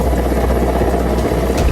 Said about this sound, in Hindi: आसमान से गरजता हुआ हेलीकॉप्टर आ पहुंचा